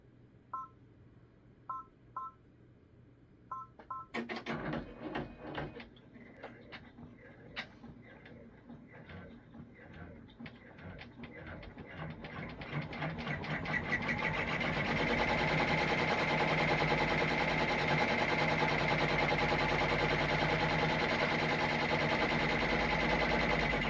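An embroidery machine stitches a placement line on heavy-duty felt for a snowman ornament. A few short electronic beeps come first, then the motor starts and ramps into a loud, steady whirring hum that runs to the end, with no talk.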